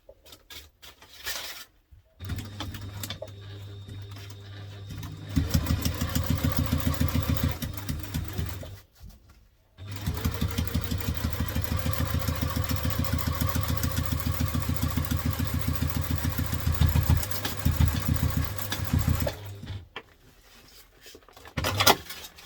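A sewing machine stitches binding onto a laptop briefcase in a few bursts of fast, rhythmic whirring, stopping briefly between runs, close and clear with no talking.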